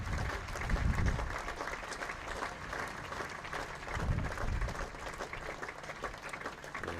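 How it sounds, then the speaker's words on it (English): A cricket crowd at York applauds a fine innings with sustained, fairly distant clapping that swells and eases in waves, without talk over it. "I'll shut up while you listen to the applause"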